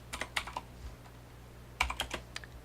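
Keys on a computer keyboard clack in two quick bursts of typing separated by a pause, close and fairly quiet over a low steady hum.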